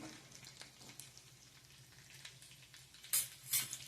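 Chicken being stirred with garam masala powder in a frying pan for chicken pickle, a low continuous sizzle with occasional scrapes and two brighter clinks of a spoon near the end.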